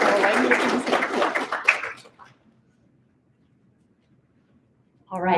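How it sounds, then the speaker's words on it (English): An awards ceremony audience breaks into applause, a dense burst of clapping for about two seconds that fades into near silence, followed by a voice starting to speak at the end. "So please give them a huge round of applause."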